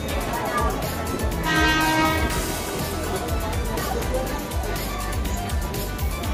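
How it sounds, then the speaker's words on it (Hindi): A train horn blares loudly as a train pulls away from a station on a trip to Manali, the rumble of rail cars beneath it and voices talking nearby. "अबे जा ट्रेन जा रही है जल्दी जा।"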